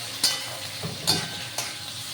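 Steady frying sizzle of prawns in a pan, added to fry for a prawn malai curry, with a few sharp scraping stir strokes, close and fairly quiet, no voices.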